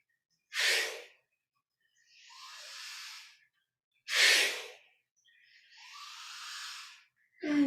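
Deep breathing during a yoga practice: two slow cycles of a sharp audible inhale followed by a longer, softer airy exhale, close and alone, with another inhale starting at the end.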